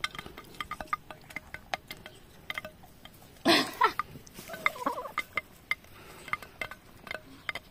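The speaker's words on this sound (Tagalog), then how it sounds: "Ayan yung manok na yan." Chicken or other barnyard fowl calling in a short, loud burst at mid-clip, followed by scattered clucks and faint clicks and knocks in a quiet setting.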